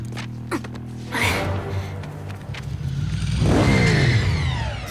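A motorcycle engine revs in an animated Transformers scene, a rising mid-pitched roar that swells around the second second and again near the end, mixed with clattering effects and a soundtrack.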